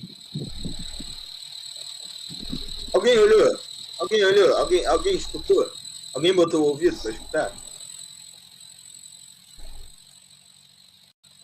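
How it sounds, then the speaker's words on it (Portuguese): A cricket chirping in a steady high trill that runs under someone speaking Portuguese, continuing faintly once he stops talking. "esse é o som de um grilo"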